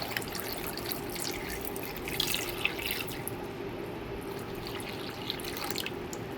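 Cold tap water runs into a cooking pot for a Korean seafood stew, a quiet steady splashing trickle with small drips, no one speaking.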